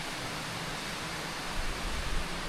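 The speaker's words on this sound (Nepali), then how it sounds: "खोला बगिरहेको छ।" A mountain stream rushes below a waterfall along a hiking trail, producing a dense, steady broadband hiss of flowing water heard from nearby without any voices.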